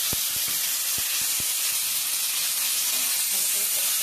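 Boiled taro greens hit hot oil with a frying hilsa fish head, bay leaves and green chillies, giving a steady loud hiss and sizzle, with a few sharp clinks near the start.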